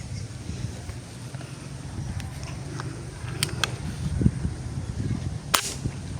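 A homemade PCP airgun fitted with a silencer is test fired outdoors, giving a single muffled, sharp crack near the end against a low rumbling background with a few faint clicks.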